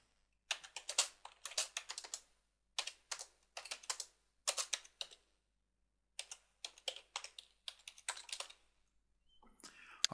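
Bursts of typing on a computer keyboard as a reply is entered, with quick clustered key clicks separated by short pauses, close and clear with no talking.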